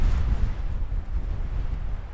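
Gusty wind at an exposed campsite, a low, rumbling buffet against the microphone that swells and dips over a couple of seconds with no voices.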